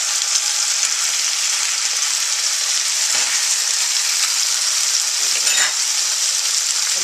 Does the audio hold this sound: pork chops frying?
yes